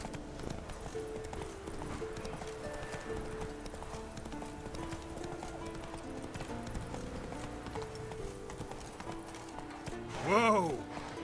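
A horse gallops in The Witcher 3, its rhythmic hoofbeats running steadily under a musical score before a short whinny rises near the end.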